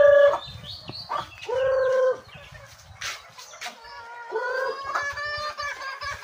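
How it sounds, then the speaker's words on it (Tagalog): Native chickens gather to be fed, with several clucks and crowing calls from the flock, close by and fairly loud in short bursts over about six seconds, with no talking. "paano po magpakain ng native na manok"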